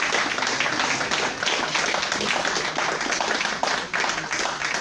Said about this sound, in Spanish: Un aplauso al maestro Sócrates.